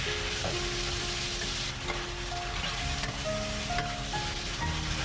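Pork strips are stirred into sauce in a hot wok, a steady sizzle with scraping and clinking of the spatula against the pan, no voices.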